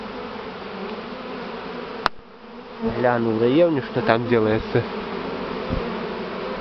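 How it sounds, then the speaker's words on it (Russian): A huge swarm of Buckfast honey bees drones in a dense, continuous buzz outdoors over grass, with someone speaking briefly over the hum partway through. "Много в траве пчел сидит тут на земле"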